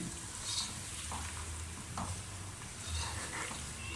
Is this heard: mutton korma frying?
yes